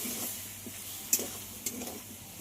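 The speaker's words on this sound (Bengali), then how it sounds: "মশলাটার সঙ্গে সব কিছু একটু কষিয়ে নিতে হবে।" Teasel gourd being sautéed with blended spice paste and turmeric, heard as a faint, steady low sizzle with soft stirring and a couple of sharp utensil clinks against the pan.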